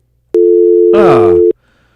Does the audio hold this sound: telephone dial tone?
yes